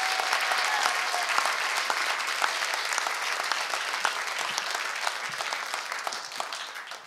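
Theater audience at a projection-mapped guitar concert at the Temple Theater breaks into sustained applause, dense clapping with scattered sharp claps that tapers slightly toward the end.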